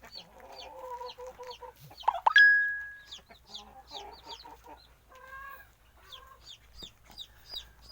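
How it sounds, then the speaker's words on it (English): Chickens cluck repeatedly on a farm, close by, with short scattered calls and one loud squawk partway through, and a turkey is somewhere nearby in the yard. "And here's more of the chickens."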